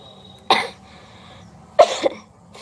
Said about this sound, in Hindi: गाना गाते खांसी आ जाती है